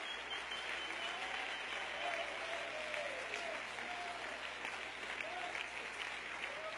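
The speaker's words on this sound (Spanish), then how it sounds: "Dale un aplauso al Señor si usted cree eso." A church congregation applauding in praise during a Spanish-language sermon, steady dense clapping that fills the room for several seconds, with faint voices and cheers mixed underneath.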